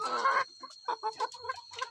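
Broiler chickens on a poultry farm cluck and squawk in short, close bursts, one louder squawk first and then a scatter of irregular clucks over a faint steady hum.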